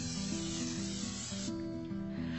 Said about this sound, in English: coating our 9-inch springform pan with cooking spray